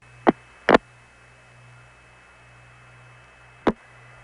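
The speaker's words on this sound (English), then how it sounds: "Here's the sound of a call going through a crossbar 5 tandem." Over a low steady hum, three sharp mechanical clacks of a Crossbar No. 5 long-distance telephone tandem switch sound as a call goes through: two close together, then one more after a pause.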